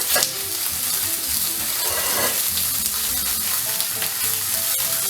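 Rainbow trout fillet frying skin side down in a hot pan, a steady loud sizzle with crackling spatters running the whole time, no talk over it.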